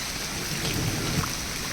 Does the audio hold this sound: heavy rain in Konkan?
yes